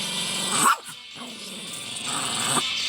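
A one-eyed dog gives a brief bark or yip at close range against a steady, noisy indoor background.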